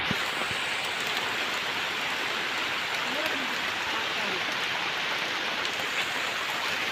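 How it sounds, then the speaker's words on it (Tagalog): Steady rain falls in a natural outdoor setting, a dense continuous hiss close by with no breaks, while voices are heard speaking under it. "Ulan na kayo."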